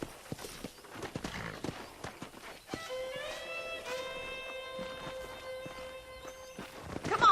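Hooves clip-clop at a walking pace as a horse moves along in Red Dead Redemption, fairly close, with a whinny and a sustained tonal sound rising midway.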